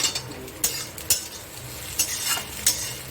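An egg fries in a pan as a utensil stirs and taps, with repeated clinking scrapes at irregular intervals over a soft, continuous sizzle.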